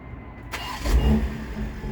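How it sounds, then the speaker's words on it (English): A 2020 BMW X4M Competition (F98) starts by remote start: after a quiet moment the engine cranks and catches with a deep rumbling burst, then settles into a steady low idle. "the vehicle will start up in a few seconds"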